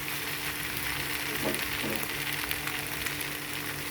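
Wide rice noodles with kale and egg stir-frying in a pan for pad see ew, a steady close sizzle with a couple of soft stirring scrapes partway through.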